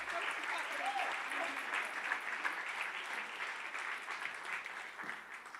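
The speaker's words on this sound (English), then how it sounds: "One more round of applause to Kira Austin." Sustained applause fills an awards ceremony hall, a broad, even wash of clapping heard at moderate distance with faint murmuring voices mixed in underneath.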